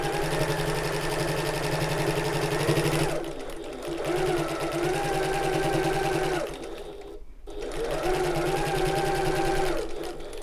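A sewing machine runs in three bursts of rapid stitching with short pauses between them, close and loud. It sews a tote bag with a very short stitch length.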